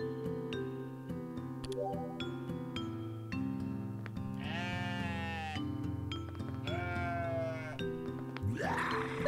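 Goat bleating in the video game OneShot World Machine, two wavering cries in the middle of the clip over steady background game music with plucked notes.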